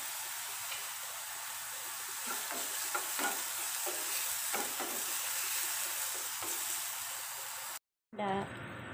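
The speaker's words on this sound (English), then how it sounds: "You can add the ginger and onion until brown color." Ginger and onion sizzling and frying in a pan for Indian sweet tomato chutney, with a steady loud hiss and scattered scraping clicks of stirring throughout, briefly cutting out near the end.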